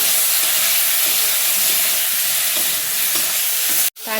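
Sundarbans tiger prawns fry with onion and turmeric in a pan, producing a loud, steady sizzle and hiss that runs unbroken, apart from a brief dropout just before the end.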